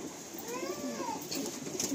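Madrasi pigeons coo softly in a loft in Kolkata, low rolling calls repeating steadily at close range with no voices over them.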